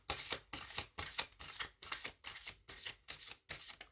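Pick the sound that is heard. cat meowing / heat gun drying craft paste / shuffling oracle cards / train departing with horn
shuffling oracle cards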